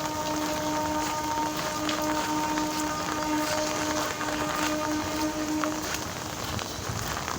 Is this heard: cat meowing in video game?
no